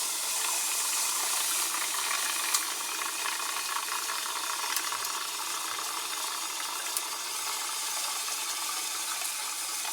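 Liquid nitrogen boiling off and venting out of watercooled RAM, a steady broad hiss with faint crackles and small ticks, continuous and close throughout.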